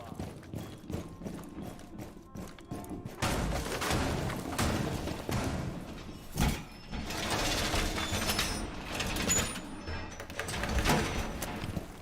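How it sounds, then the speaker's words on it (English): Wall reinforcement in Rainbow Six Siege during an esports grand final: a mechanical ratcheting and metallic clanking sequence, loud and close, with a dense burst of clattering activity and faint background voices. "Reinforcing the wall!"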